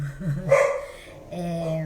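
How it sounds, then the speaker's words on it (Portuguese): A female dog barks nearby indoors, a few sharp yips and barks with short gaps between them. "minha cachorra tá latindo"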